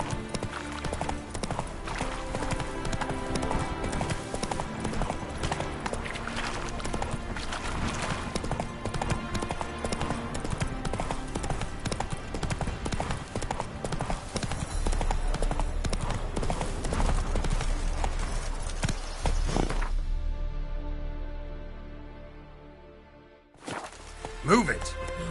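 Roach the horse gallops in The Witcher 3, with rapid, steady hoofbeats under dense music and game sound for about twenty seconds, then a brief drop before the sound returns.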